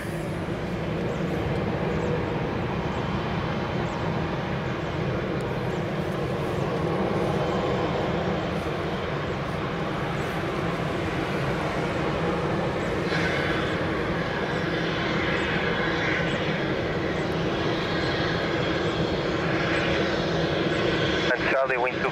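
An airliner landing at Lisbon Airport, a loud steady engine roar that rises into a broad rushing swell partway through, heard from a distance without talk.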